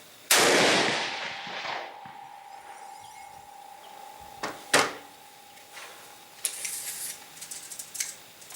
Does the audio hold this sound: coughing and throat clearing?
no